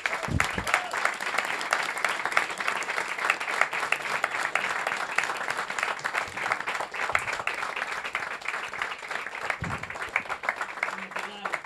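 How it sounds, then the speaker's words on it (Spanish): Audience applause at the close of a horror literature talk with Cristian Ponce and Luciano Lamberti, sustained crowd clapping throughout with voices mixed in. "Quisiera pedir un enorme aplauso para Cristian Ponce y Luciano Lamberti."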